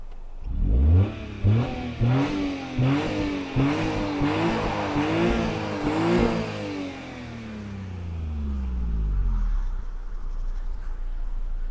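A £190 Daihatsu Charade with a smoking problem revs repeatedly, about a dozen rhythmic engine blips rising and falling close by, then settles into a lower, rougher idle rumble.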